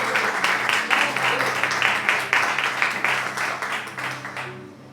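A church congregation claps together in praise, rhythmic group clapping in a steady beat over a sustained low musical tone, gradually fading out at the end.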